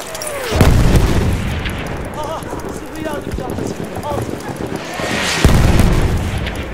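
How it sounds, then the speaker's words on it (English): Mortar shells exploding in the first-person shooter Battlefield 1, two heavy booming impacts roughly five seconds apart, loud and close, with battlefield clatter and a player talking between them. "Oh, we're getting mortared"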